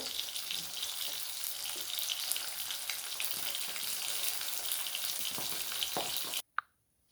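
Pabda fish frying in oil in a kadai: a dense, loud, continuous hiss and crackle of hot oil up close that cuts off abruptly near the end, leaving a single faint knock.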